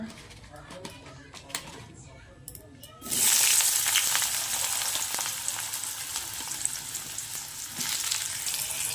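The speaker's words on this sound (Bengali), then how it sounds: "একই তেলে বেগুনগুলো ভেজে নেব" Eggplant pieces dropped into hot oil left from frying fish: a quiet stretch with a few knocks and a voice, then a sudden loud sizzle that keeps hissing steadily to the end.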